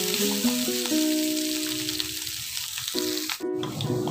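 Leftover chicken dry-fries in a pan with a crackling sizzle that runs underneath tonal music for the whole stretch.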